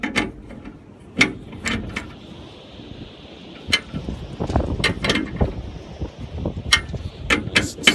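Ratcheting metal clicks from a wrench snugging a bolt down on a chainsaw mill, sounding in short, close bursts with uneven pauses over a breezy outdoor background and no talking.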